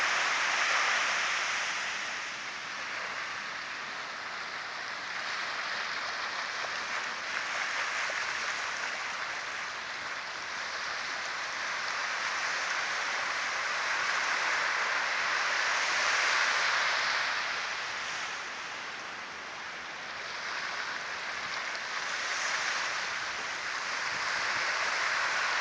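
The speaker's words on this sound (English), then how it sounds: "Listen to the cycles of the waves." Ocean waves rolling and washing ashore in a continuous broadband roar that swells and eases in slow cycles, steady and moderately loud with no voices.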